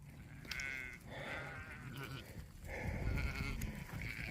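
Katahdin hair sheep in Montana bleating at feeding time, several overlapping calls close by in repeated bursts, loud and insistent throughout.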